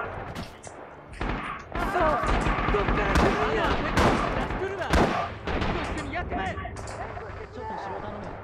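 In the video game Red Orchestra 2: Rising Storm, a grenade explosion and rattling gunfire burst out in loud, repeated cracks and booms, with excited talking over the battle noise.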